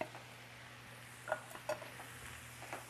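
Claw and backfin crab meat being mixed in a bowl with a utensil in a home kitchen, with soft scraping and a couple of light clinks against the bowl, quiet and close, with no talking.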